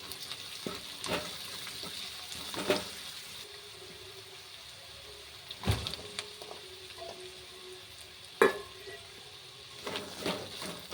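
Broad beans frying and being stirred in a pan for an egg and cluster bean curry, a steady soft sizzle broken by a few sharp clinks and scrapes of a spoon against the pan.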